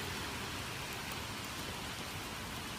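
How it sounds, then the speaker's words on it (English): Steady rain pours during a severe thunderstorm in Brooklyn, New York, a dense, even hiss of falling water on surfaces that holds constant and fairly loud throughout with no thunder or voices. "This rain."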